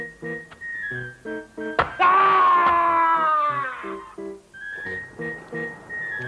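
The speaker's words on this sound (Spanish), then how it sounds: "¿Qué alarido tan extraño," A strange, drawn-out wailing scream rises and wavers for a couple of seconds, set between short, stabbing musical notes.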